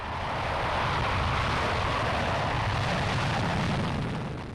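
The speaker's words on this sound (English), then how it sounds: "plane noise was an issue over the capital" Airplane passing overhead above London, a steady, loud broadband roar that swells and fades slightly, with no voices.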